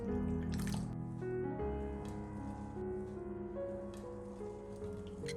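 Water is poured over cut ginger pieces sprinkled with baking soda, a continuous close splashing and trickling into the bowl that runs alone without talk.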